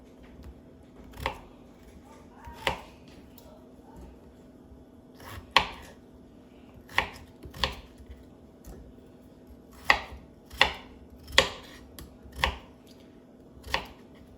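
Knife chopping food into small cubes on a cutting board for a Thanksgiving dinner, scattered crisp thuds at an irregular pace, fairly quiet and close over a low steady kitchen hum, with no talking.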